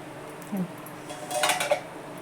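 A metal lid comes off a steaming pot during stovetop cooking, with a close clank and then a brighter, clattering rattle of pot and lid, no voices over it.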